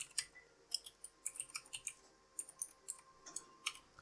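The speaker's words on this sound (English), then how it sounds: "So I'm just going to type that here." Someone types C code on a computer keyboard, producing quick irregular bursts of light key clicks with short pauses between runs, close and fairly quiet.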